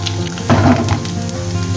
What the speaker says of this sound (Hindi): ये सारे हम इसमें डालेंगे तड़के में।